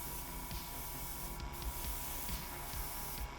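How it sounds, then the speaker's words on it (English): Spray paint hissing from a can onto a painted miniature from above, with a steady close hiss broken by short bursts and light clicks of the nozzle. "I'm spraying from above"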